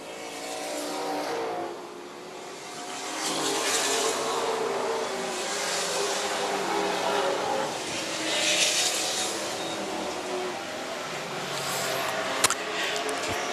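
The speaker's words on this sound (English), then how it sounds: "Chris Huntoon right in the tire tracks of Ross Chastain, trying to run him down" Race cars roar around Charlotte County Speedway, their engines rising and falling as they pass in a continuous swelling drone, with a brief sharp sound near the end.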